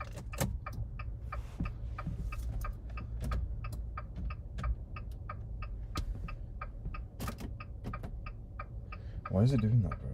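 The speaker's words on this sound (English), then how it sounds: "both of the indicators are going off and I don't know how to turn them off in this car" Car turn indicators, both blinking at once, tick in a steady, even rhythm inside the car, with people talking quietly over the regular clicks.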